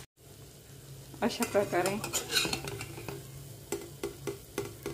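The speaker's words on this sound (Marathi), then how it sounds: "हे वडे मंद गॅसवर फ्राय करून घ्यायचे" Aloo vada frying in oil over low gas makes a soft, steady sizzle with bubbly crackles and light utensil clinks, while a voice speaks briefly over it.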